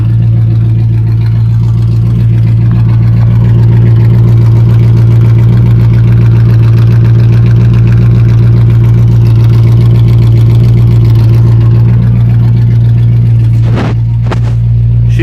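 A 1972 Dodge W100 4x4 pickup with a 318 V8 idles loudly and smoothly with a steady low rumble, and a short rev comes near the end.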